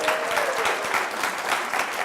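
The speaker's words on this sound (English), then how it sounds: "Give yourselves a round of applause." Audience applause at a Portland Community College campus talk, a steady dense wash of many hands clapping, loud and continuous throughout, with no talk over it.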